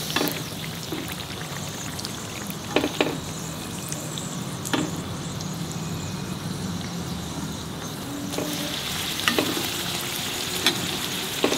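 Puris deep-frying in hot oil over a medium flame, stirred with a ladle so they puff; a steady, close sizzle runs throughout, with a few sharp clinks and bubbling surges.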